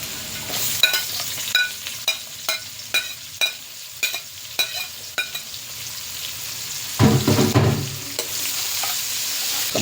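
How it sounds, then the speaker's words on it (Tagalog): Papait leaves sautéing in a pan, with a string of regular clanking spatula strokes over a constant sizzle, then a louder burst of frying near the end; close, no talk. "Dito ko na igigisa yung papait."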